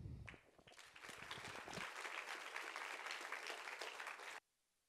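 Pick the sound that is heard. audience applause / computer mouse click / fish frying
audience applause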